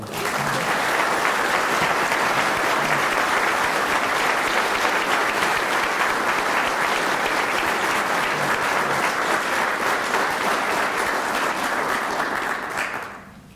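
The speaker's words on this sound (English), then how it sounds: "Let's give him a round of applause." A large crowd applauds steadily and loudly for over twelve seconds at a military retirement ceremony, the clapping fading out abruptly at the end.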